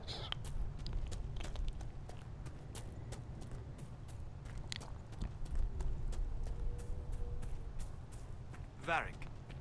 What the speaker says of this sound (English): We also need to ride the horses.